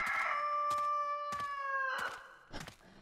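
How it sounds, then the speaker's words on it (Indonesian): A rooster crows in a horror video game, one long sustained call at the start, followed by a few sharp thuds and softer noises in a quiet setting. "Ada suara ayam dong."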